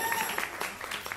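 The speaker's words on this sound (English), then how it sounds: "Please give applause for Gualtiero Minelli on the tambourine" Audience applause for a tambourine player at a vocal showcase on stage, a dense, steady patter of clapping heard at a moderate distance throughout.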